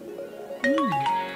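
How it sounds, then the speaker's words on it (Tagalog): Cellphone ringtone, a short melodic electronic chime of a few descending and rising tones, clear and close. "Nagre-ring ang cellphone ko."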